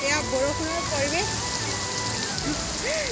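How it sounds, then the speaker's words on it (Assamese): Rain falls outdoors during a college freshers' welcome gathering, a steady close hiss of drops on surfaces running throughout, with faint voices and a few thin, wavering tones drifting through it. "এয়া বৰষুণৰ পৰিৱেশ,"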